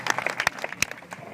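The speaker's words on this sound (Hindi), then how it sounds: "एक बार अग्रिम तालियां बजा के मुझे आदेशित कर दीजिए।" An audience at the historic Gangaur fair in Kathumar claps, producing a burst of sharp, irregular hand claps of moderate loudness that thin out toward the end.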